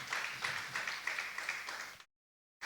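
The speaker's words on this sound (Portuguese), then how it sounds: "Você pode aplaudir ao Senhor enquanto toma o teu assento." Congregation in a church applauding together, a steady mid-level wash of clapping lasting about two seconds before it cuts to silence, then returns briefly at the very end.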